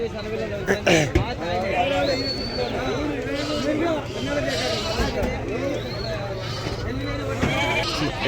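Sheep bleat repeatedly amid a busy livestock market crowd, with people chattering and calling nearby throughout.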